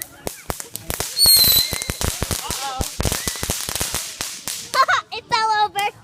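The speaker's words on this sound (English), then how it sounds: "Fireworks." Backyard fireworks go off as sharp, crackling bangs and rapid pops, then whistling screechers rise and warble near the end. The bursts are close and loud, and people talk and cheer between them.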